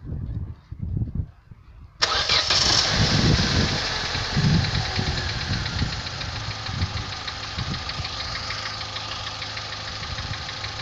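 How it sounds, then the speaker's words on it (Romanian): After some quiet clicks, a car engine cranks and catches abruptly, then settles into a steady, slightly rattly idle close by. "Putem porni motorul."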